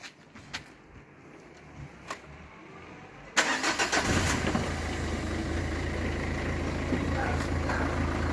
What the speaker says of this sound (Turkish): Sonra sağlam aracımıza geçip onu çalıştırıyoruz.